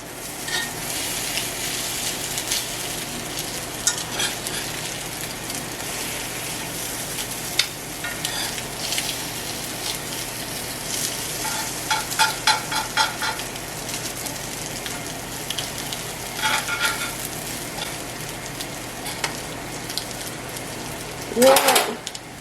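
Salmon patties frying in oil in a pan give off a steady broadband sizzle with crackling spatters all the way through, briefly louder at moments, while a voice speaks now and then over the cooking.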